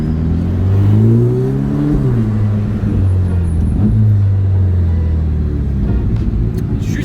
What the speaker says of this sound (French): le fait de rouler ici, place du casino, en Ferrari